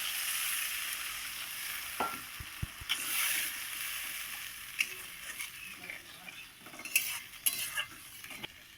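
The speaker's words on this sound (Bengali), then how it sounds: "এইবার আমি গ্রেভির জন্য একটু জল দিয়ে দেবো" Water goes into a pan of frying masala for a chitol fish gravy, bringing a soft sizzle, spoon clinks and scraping against the pan at close range, along with a few sharp metallic knocks.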